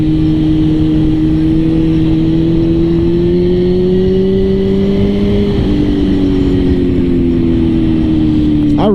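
A 2006 Suzuki GSX-R 1000 sportbike engine drones steadily under the rider on the road, loud and close. Its pitch climbs slowly, drops briefly after a gear change, then settles again, with a constant wind rush throughout.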